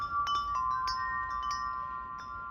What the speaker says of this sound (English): Wind chime, which I think I've showed everyone before,